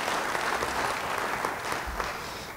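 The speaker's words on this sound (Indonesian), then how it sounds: "Beri tepuk tangan yang baik bagi dia." A church congregation claps during a sermon, a full, steady burst of applause from many people filling the hall, holding level before tapering slightly.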